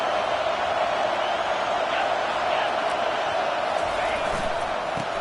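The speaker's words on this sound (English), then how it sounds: "This crowd is trying to inspire this defense to make a big red zone stop." A football stadium crowd roars steadily during a red zone defensive stand in a college game between Texas and Wisconsin, a loud sustained wall of noise from start to finish.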